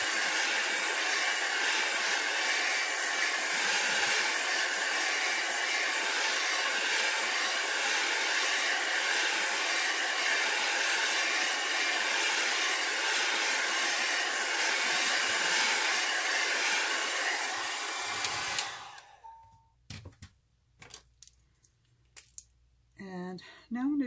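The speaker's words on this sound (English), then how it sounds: "So I'm going to take the dryer, and now I'm going to use the high heat." Hair dryer on high heat blowing over alcohol ink artwork, a loud steady broadband whoosh running continuously for about eighteen seconds before cutting off, followed by a few faint small handling sounds.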